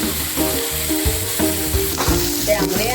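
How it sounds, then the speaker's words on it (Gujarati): Leafy greens stirred in a hot, sizzling pan, a steady close fry with scraping stir strokes throughout and no talking. "હવે નાખીએ આપણે ભાજીને નાખીને થોડીક વાર આપણે તેને મિક્સ કરી લેવાનું"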